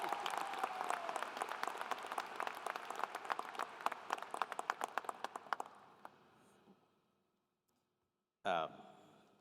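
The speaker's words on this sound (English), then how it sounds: "so let's give him a round of applause." A commencement crowd claps loudly and steadily for several seconds, then the applause fades out, followed by a short silence and a brief closing sound.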